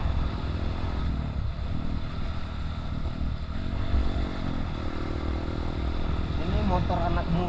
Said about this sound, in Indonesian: motor ini dibawa kencang, bray, suara knalpotnya sangat besar